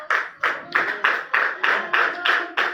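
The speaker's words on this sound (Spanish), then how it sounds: "Denle un aplauso al Señor con todo el corazón." A church congregation claps in unison for the Lord, a steady rhythmic beat of about eight sharp clap bursts spaced evenly, close and fairly loud with no talk over it.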